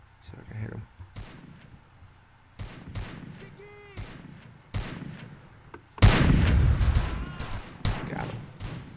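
Gunfire in a Russian Revolution battle video game: scattered shots and booms that swell into a dense, loud volley partway through, with voices talking among the shots.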